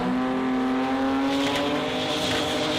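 Sport compact drag race cars in the modified 10.5 class launch off the line at the Garrett Adelaide Jamboree, a loud sustained engine roar with rising tonal whine and tire noise, close and continuous, without talking.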